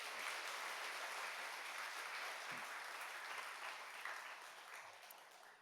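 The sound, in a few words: congregation welcoming applause for the pastor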